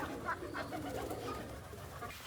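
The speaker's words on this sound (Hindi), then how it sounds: "एक पिजन बैठा हुआ और एक मुर्गी बैठी हुई है," Pigeons coo softly in repeated low, throaty calls on an open farm where chickens also roam, the cooing steady and fairly faint against light outdoor background noise.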